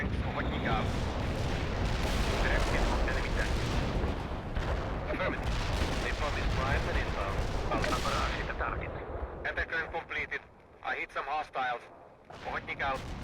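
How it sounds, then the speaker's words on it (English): Artillery barrage in the World in Conflict war game, with a dense, loud roar of overlapping booms and blasts that thins out near the end while a voice speaks over it. "Artillery strike on the way."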